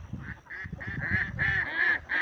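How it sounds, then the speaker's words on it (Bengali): Domestic ducks kept alongside chickens at a riverside spot quack in a repeated series of nasal honks, fairly close, growing louder toward the end over a low outdoor rumble. "হাঁস মুরগি হাঁসগুলা কত দেখুন"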